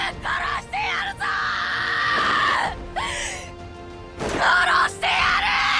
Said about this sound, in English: you can feel the absolute terror in the screams of a boy who is deeply hurt but cannot do anything about his situation